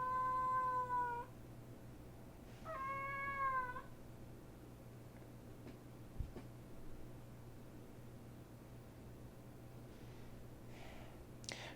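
A cat meows loudly while being held, giving two long drawn-out meows close by, then quiet breathing and small rustles with a faint snort toward the end.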